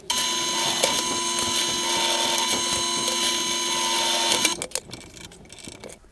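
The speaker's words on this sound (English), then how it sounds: "I'm going to pilot them with a 4mm bit first" A drill boring 4mm pilot holes for a shop-built fret bending jig, a steady high mechanical whine with a motor hum running continuously for about four and a half seconds, then cutting off into quieter clattering handling noise.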